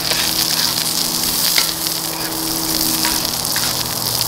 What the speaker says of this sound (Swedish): Oj då, här är det fart i den här lilla stekhällen alltså.